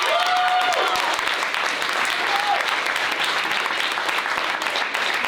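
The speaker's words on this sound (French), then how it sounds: "un tonnerre d'applaudissements pour Margot" A concert audience applauds a student singer and guitarist at a lycée music-specialty concert. The clapping is dense and continuous, and a voice is heard briefly early on.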